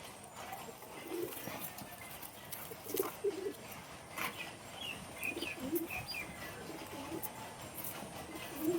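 Soft, repeated coos from a golden female pigeon among caged birds, faint and intermittent against a quiet background with scattered clicks and knocks.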